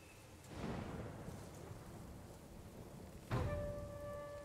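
Thunder rolls through a stormy scene in the Ghost of Tsushima video game, two deep booms rising out of a steady hiss of rain, each swelling then fading, with faint tonal music lingering behind.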